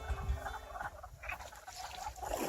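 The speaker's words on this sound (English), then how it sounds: "Listen to those frogs." Frogs croak beside a creek in northern Alberta during spring runoff, a dense close chorus of rough calls with steady background patter and no talk.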